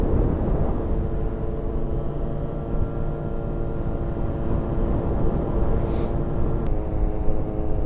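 A motorcycle fitted with an aftermarket, non-stock exhaust on a Friday night ride, its engine a steady, full throaty drone that stays loud and close throughout with no talking.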